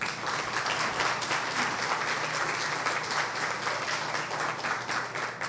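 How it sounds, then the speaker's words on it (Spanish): An audience at a university science event in Manta, Ecuador, applauds steadily, a full, sustained round of clapping that fills the room for several seconds at moderate volume. "el doctor Marco Zambrano, para quien pido un aplauso."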